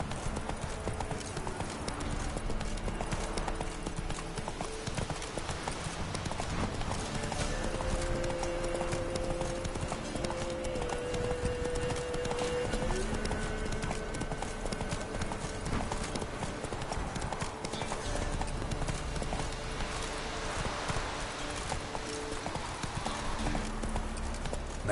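Roach, Geralt's horse in The Witcher 3: Wild Hunt, thuds along in a steady, continuous run of hoofbeats lasting the whole stretch, set against a low game soundscape and music.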